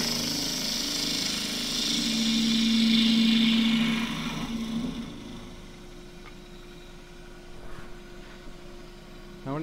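A wood lathe hums as a half-inch spindle gouge faces off end grain, with a loud, rough cutting hiss over a steady motor tone for the first few seconds that fades, leaving the spinning lathe's drone and faint scraping.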